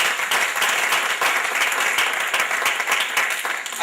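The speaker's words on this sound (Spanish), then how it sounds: "Démosle palmas al Rey," A church congregation applauds during a service, dense sustained clapping from many people filling the room, loud and continuous with no voices on top.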